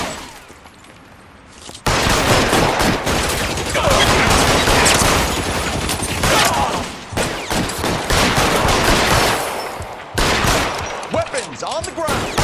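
Dense gunfire bursts erupt in a police shootout in the video game L.A. Noire, rapid repeated shots and volleys filling most of the stretch after a quieter opening, with brief gaps and voices mixed in.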